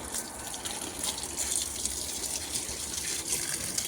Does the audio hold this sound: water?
yes